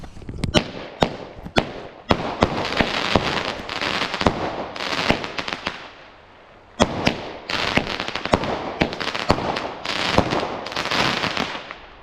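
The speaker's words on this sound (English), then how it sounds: "Let me light this and show you this nice firework." Bonfire Night firework display going off nearby, a rapid irregular string of sharp cracks and bangs over crackling hiss, a brief lull, then another dense volley, with no talk.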